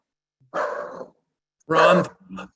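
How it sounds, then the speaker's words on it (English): A dog barks in the background during a spoken presentation, with two or three short, fairly loud bursts and a brief gap between them. "Oop, there goes my dog."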